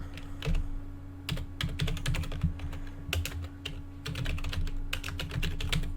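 Fingers tap out a web address on a computer keyboard, quick close clicks in short bursts with brief pauses, over a faint steady electrical hum.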